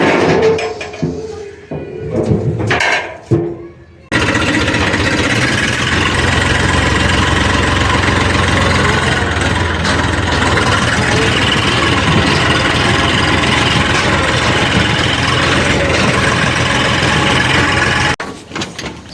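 A tractor with a trolley loaded with wood idles steadily and loudly at close range for most of the stretch, after a few seconds of rougher, uneven rumbling and clatter at the start.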